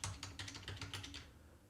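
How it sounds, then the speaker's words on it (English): Fingers typing on a computer keyboard picked up by a podcast and streaming microphone with denoise off, a quick run of soft clicky keystrokes, faint and close, that trails off into quiet. "If I was typing on my keyboard, you can hear that."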